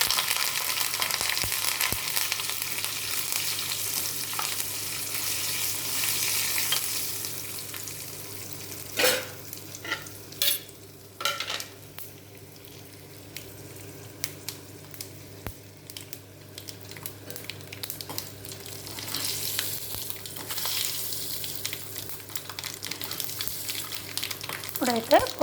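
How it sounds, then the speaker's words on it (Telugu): Mustard-seed tempering with curry leaves and dried red chillies fries in hot oil, a steady close sizzle broken by sharp crackles and pops, then settling back to a softer fry. "ఇప్పుడైతే పోపు కూడా వేగిపోయింది బాగా"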